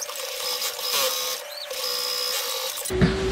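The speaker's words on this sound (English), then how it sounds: "sew that curve again, just like I did for the first one" Sewing machine stitching a curved fabric seam on a face mask, a fast close mechanical whir running steadily with slight changes in pace, then stopping with a brief click and hum.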